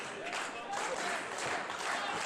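Wrestling crowd cheering and applauding during a match, a steady wash of clapping and crowd noise heard from within the arena at moderate level.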